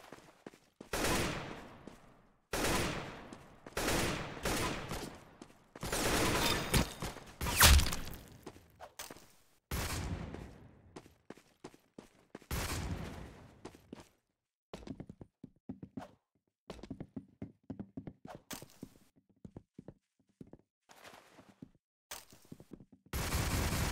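Rapid bursts of gunfire in the Roblox game Arsenal, dense clusters of sharp shots and sustained automatic fire followed by sparser clicks and footsteps, fairly loud with no speech.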